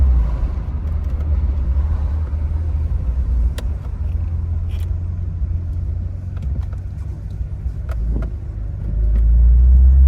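A 1982 Toyota Celica Supra with a five-speed manual, driven briskly on the road, gives a steady low engine and road rumble that swells louder near the end, with no talk over it.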